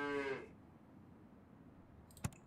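A cartoonish cow moos once in the Super Auto Pets video game, a short harmonic lowing call that fades within half a second, followed by a brief sharp click, with no talking.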